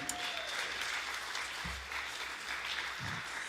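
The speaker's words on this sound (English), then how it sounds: "Round of applause for Ryan Harvey." An audience at a spiritual talk claps in a steady, sustained round of applause that fills the room, fairly distant with dense overlapping hand claps and no speech.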